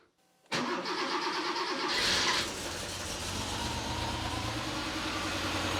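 After a moment of near silence, a Porsche 911 Carrera engine, just rebuilt, cranks and fires, revs briefly, then settles into a steady, close idle.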